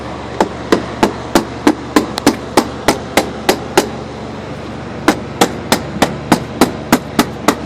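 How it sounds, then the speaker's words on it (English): Steady hammer blows around the band of a Pentair pool filter, about two per second, each sharp and close, with a brief pause midway before the strikes resume at the same pace. "So just give it a good hammering,"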